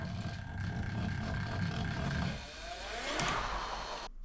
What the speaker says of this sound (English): Going into the current values menu and giving the heli a quick spin.